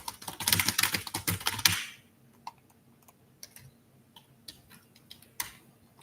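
Fast, loud typing on a computer keyboard for about two seconds, a dense rattle of keystrokes, then a few scattered, quieter key taps and clicks spread over the remaining seconds.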